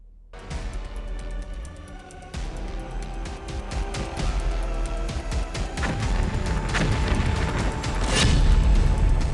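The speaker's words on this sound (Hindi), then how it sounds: "ईरान में फिर से बम फटा है।" A loud, rumbling bomb blast roars out after a brief quiet start, followed by continuous crashing debris and heavy rumble that swells toward the end.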